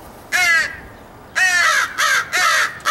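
Crows caw loudly and close by, four harsh drawn-out calls in an uneven sequence: one, a pause, then three in quick succession.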